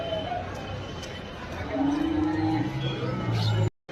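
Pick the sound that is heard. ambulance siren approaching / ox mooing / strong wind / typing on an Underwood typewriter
ox mooing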